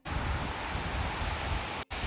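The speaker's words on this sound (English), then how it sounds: "It's windy." Wind on a hiking trail roars as steady broadband rushing noise close to the microphone, briefly cutting out near the end.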